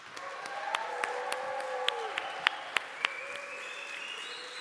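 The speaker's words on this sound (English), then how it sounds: "Please welcome them with a great applause." Audience applause welcoming speakers at a conference, with sharp individual claps standing out over a steady crowd patter and a faint tonal hum running underneath.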